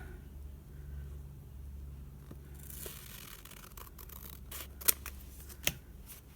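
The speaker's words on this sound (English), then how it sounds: "And then let's just cut that line off." Scissors cut paper along a drawn line for a homemade journal, with faint snips building to two sharper, distinct cuts near the end in a quiet room.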